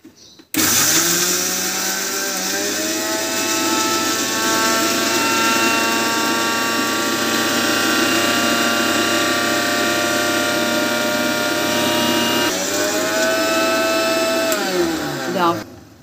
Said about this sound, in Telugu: ఇందాక పట్టుకున్న జీలకర్ర నువ్వులు వెల్లుల్లిపాయలు పేస్ట్ చేసుకోవాలండి మిక్సీ